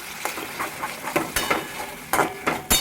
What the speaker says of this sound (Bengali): টমেটোটা ভাজা ভাজা হয়ে যাচ্ছে